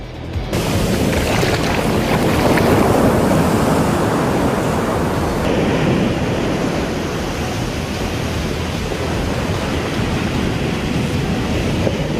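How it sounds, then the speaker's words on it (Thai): Strong ocean waves surge and wash continuously onto a sandy beach, a loud, broad roar that holds steady throughout with no voices. "คลื่นแรงก็ทำให้การถ่ายทำวันนี้ลำบากมากทีเดียวครับ"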